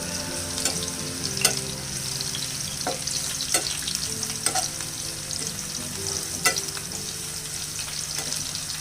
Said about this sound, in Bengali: এখন আমি পেঁয়াজগুলোকে হালকা করে বেজে নিব